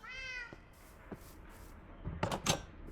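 A pet cat in a Minecraft Skyblock game gives a short meow at the start, followed by faint clicks and soft game sounds.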